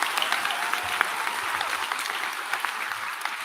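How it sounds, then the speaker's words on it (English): Steady applause from a graduation ceremony crowd honoring graduates and award winners, dense clapping sustained throughout at moderate volume with no voices over it. "Let's have a round of applause for all these graduates and award winners,"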